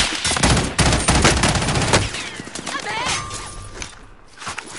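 Gunfire erupting in Call of Duty: Warzone, a loud cluster of rapid shots followed by scattered reports and battlefield noise while players talk.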